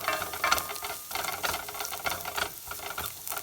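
Seasoning salt being stirred into shepherd's pie filling in a pan, a soft scraping and shuffling with irregular strokes, moderately quiet and close, with no voices.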